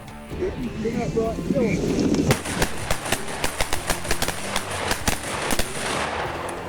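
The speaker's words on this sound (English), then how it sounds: "One shot, one down." Shotgun fire during a duck and goose hunt in Perry, Oklahoma, heard as a sharp distant report after outdoor wind and talk, followed by a run of crisp clicks and knocks close by.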